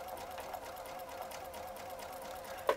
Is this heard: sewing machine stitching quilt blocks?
yes